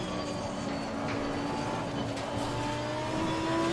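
Lamborghini Huracan GT3 race car engine in Assetto Corsa Competizione, a steady loud drone that holds level as the throttle comes on, with no talk over it.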